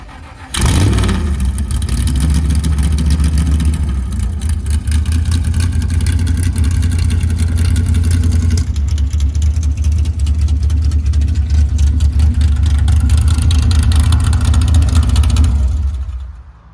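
A classic 1960s gasser drag car engine rumbles loudly up close, revving and idling in a deep, throaty, continuous roar for about fifteen seconds, with no talking.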